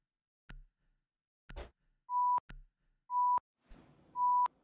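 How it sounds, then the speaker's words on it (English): A broadcast headset mic picks up a low-battery warning, three short steady beeps spaced about a second apart, interleaved with faint clicks and taps, with no voices. "Beep."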